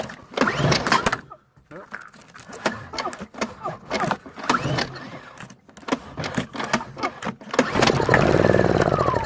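A Honda EU2000 generator is pulled and struggles to start, giving repeated rough cranking bursts and sputtering engine noise up close, broken by short pauses, with someone talking over parts of it.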